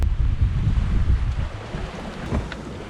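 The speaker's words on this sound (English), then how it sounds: "I'm hoping you can hear the sound of the wind coming through the rigging." Strong wind roars through a sailboat's rigging during a rough upwind Caribbean Sea crossing toward Grenada, a loud continuous rushing buffet with gusty swells and low wave wash beneath.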